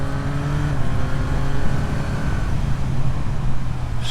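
A 2024 Yamaha MT-09 triple-cylinder naked motorcycle accelerating hard with its quick shifter, the engine note rising in pitch before a brief dip as it snaps into the next gear, loud and close throughout.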